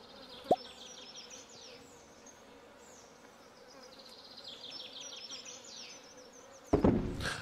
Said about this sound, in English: I'm not a fan of the bee sound.